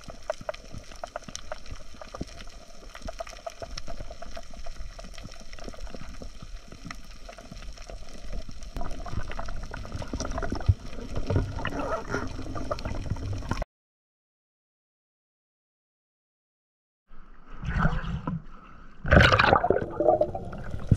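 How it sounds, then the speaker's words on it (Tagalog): Muffled underwater sea ambience with bubbling and gurgling, cutting to silence for a few seconds before louder bubbling bursts return. "in-overlay na lang natin para makuha natin yung sound sa ilalim ng dagat"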